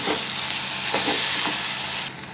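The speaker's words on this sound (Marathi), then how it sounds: "टमाटर टाकल्यानंतर पूर्ण आपल्याला मिक्स करून घ्यायचे आहे" Chopped tomatoes for chole fry in a pan, giving a continuous close sizzle with a few stirring scrapes, alone without voices.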